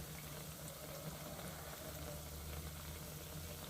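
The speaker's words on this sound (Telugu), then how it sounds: "ఇవ్వండి ఇవి వేగుతుంది" Potato vadas fry in hot oil with a dense, steady bubbling sizzle, close and even throughout, with no voices.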